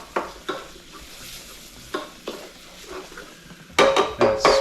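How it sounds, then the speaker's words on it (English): A roux loosened with bacon grease is stirred in a hot pan, with crackling sizzle and distinct scraping strokes of a utensil at irregular intervals, building to quicker, louder stirring at the end, close up and without talk. "that bacon grease is loosening up that roux just a little bit"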